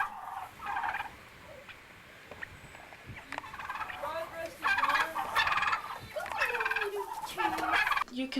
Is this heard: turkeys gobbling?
yes